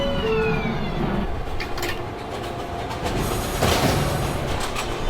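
Manhattan-bound 4 subway train rumbling steadily on the line, a continuous loud mechanical roar with brief squeals and a rise in intensity near the end, no talk.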